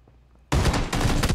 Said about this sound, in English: Yeah, that's an AK.